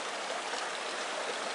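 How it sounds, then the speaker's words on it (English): Steady rushing of a creek flowing over rocks, a continuous broadband wash with no voices, close and fairly loud throughout. "There's our creek."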